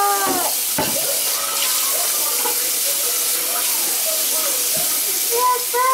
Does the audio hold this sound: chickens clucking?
no